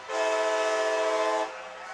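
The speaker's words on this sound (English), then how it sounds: "That's the 2nd train of the night." A passing train sounds its horn during a night high school football game: one loud, sustained, harmonically rich blast lasting about a second and a half, then cutting off to a low rumble.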